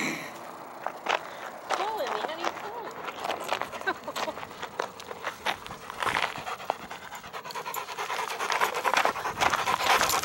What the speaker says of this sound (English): This is walking my 7-year-old and 9-week-old Airedale Terriers in Mission Trails Regional Park